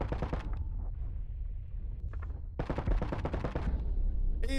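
Gunfire in the astronaut shooter game Boundary, rapid loud bursts of shots in quick rhythmic runs separated by short pauses, close and punchy with echoing tails.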